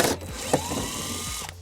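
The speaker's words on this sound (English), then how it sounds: "We're going to remove those also using an 8mm socket." An 8mm socket wrench removes underbody panel screws near the rear tire of a 2019 BMW 530i, with a brief close mechanical whirr and a ratcheting turn heard alone.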